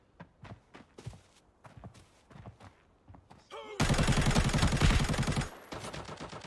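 Gunfire in the mobile shooter Arena Breakout: scattered single shots and footsteps, then a loud sustained burst of automatic fire lasting about two seconds, close and dominant, followed by a few quieter shots.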